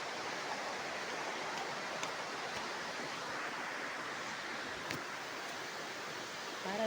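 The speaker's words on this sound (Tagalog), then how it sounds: "naririnig nyo ba yung tubig" Water flowing from a spring, a faint, continuous hiss and gurgle heard steadily throughout with no voices.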